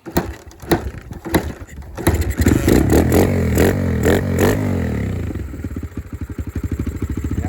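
A small Honda MTX125R motorcycle engine runs steadily, with clattering and revving early on before settling into a quick, even idle pulse close by.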